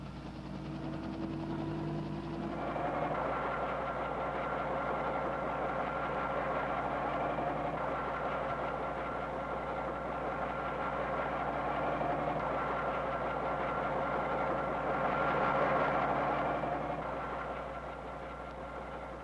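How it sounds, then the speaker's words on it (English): President Kennedy's helicopter, 1963, sits with its engine idling in a steady low drone that swells slightly as it runs, with no voices over it. "The first stage of the journey is aboard President Kennedy's helicopter to the airport"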